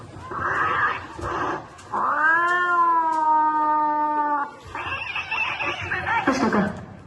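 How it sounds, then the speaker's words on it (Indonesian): Cats yowl and caterwaul in a noisy scuffle, one long drawn-out wail in the middle flanked by harsh, rapid hisses and squalls, close and loud. "Kucing-kucing pada ribut."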